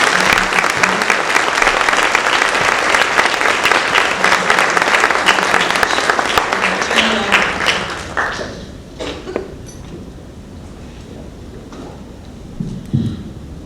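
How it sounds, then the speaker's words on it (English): A large audience applauds the panelists at a health event, dense loud clapping that holds steady for several seconds, then fades away, leaving room noise and a few scattered claps. "let's give a round of applause to our panelists"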